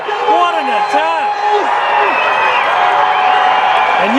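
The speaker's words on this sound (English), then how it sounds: "you can hear the crowd is going absolutely bananas" A football crowd roars and cheers after an Oakville goal in a League1 Ontario men's final, a loud sustained wash of voices with whistles and shouts, heard under a commentator talking over it.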